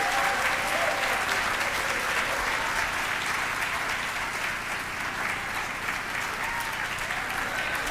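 A celebration audience applauds an honoree, steady dense clapping from a large crowd that holds loud and even throughout without a break.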